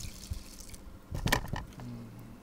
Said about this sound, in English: Pouring water in the top.